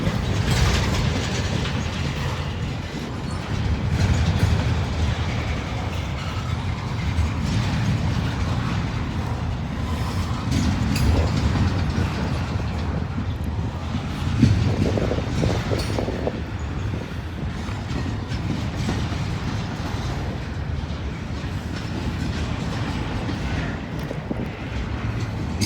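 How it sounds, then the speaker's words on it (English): A very long freight train, over two miles, rolls past steadily for the whole stretch, with a continuous rumble and clanking, ratcheting car noise, close and loud, with no talk. "you got yourselves another 2 mile long plus train here"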